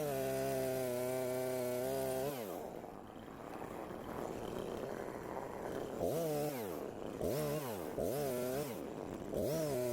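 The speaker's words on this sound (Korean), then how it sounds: "기계톱에 무리하게 눌러서 작업을 하게 되면 시동이 꺼지는 경우도 발생합니다." A chainsaw (engine saw) cutting branches off a felled tree lying on the ground, engine revving up and down repeatedly as the chain bites, loud and close.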